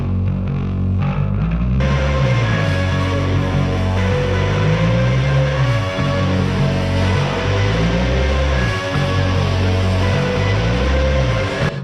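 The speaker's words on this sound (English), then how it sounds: "she's doing a glissando up the bass" Distorted, noisy rock track with a bass guitar repeatedly sliding up the neck in looping glissandos, loud and dense under a harsh wall of guitar noise, with no talking.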